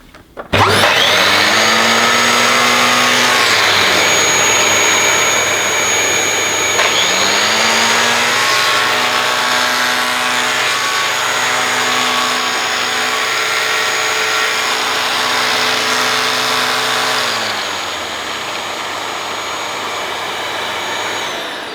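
A Dyson DC21 Motorhead canister vacuum cleaner runs loud and close, its motor whining up to a steady high drone. The pitch shifts midway, then drops slightly near the end, with no talking.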